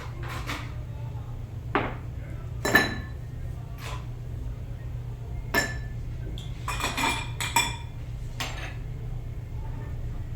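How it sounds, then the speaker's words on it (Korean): Ice cubes clinking into a glass for a Bloody Mary cocktail in several sharp knocks and rattles, spread irregularly over a steady low hum. "잔에다가 얼음을 넣어주시고요."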